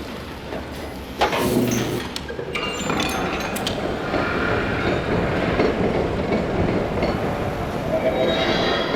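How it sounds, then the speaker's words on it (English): A train rolls past on a railway near Pinorvia Point, a steady loud rumble of wheels and cars that holds throughout after a sharp onset, with no voices. "Train."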